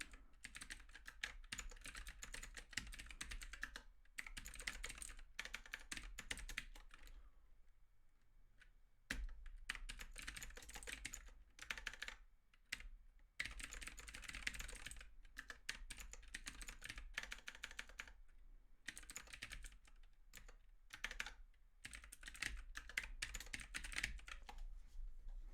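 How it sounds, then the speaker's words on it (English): Steady typing on a computer keyboard, a dense clatter of keystrokes in bursts separated by brief pauses, heard close up and alone throughout. "Maybe I'll type out a little agenda here."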